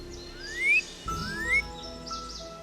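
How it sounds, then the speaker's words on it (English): Birdsong in the outdoor wilderness of a Nancy Drew video game: two rising whistled calls, each sweeping upward and swelling, repeated about a second apart, set over a soft chirping ambience with no speech. "That's a lot of bird noises."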